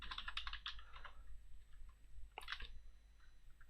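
Fingers type on a computer keyboard up close, with quick bursts of light key clicks and a short pause between them. The clicks are fairly quiet against a low background hum.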